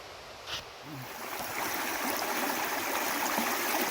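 A river flows far below a boulder field near Li'l MO Falls, producing a steady broadband wash of moving water that rises slightly and holds constant and fairly soft throughout.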